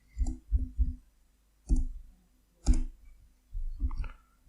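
Mouse clicks on a computer, sounding as close, dry taps: a quick triple cluster, then single clicks spaced out, and a final double click, with near silence between them.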